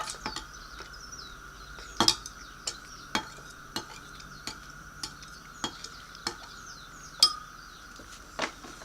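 Vegan banana bread batter being mixed in a bowl, with regular utensil clinks and taps against the bowl in a steady rhythm, close and fairly quiet, with a couple of louder knocks.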